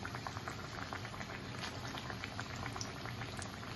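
Vegetable pakoda pieces of paneer, cauliflower and potato fry in hot oil, a dense, steady bubbling sizzle with crackly pops throughout, close and moderately loud with no voices.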